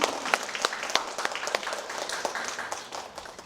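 An audience claps and applauds steadily at moderate distance, with dense overlapping hand claps and a few sharper individual claps standing out through the few seconds.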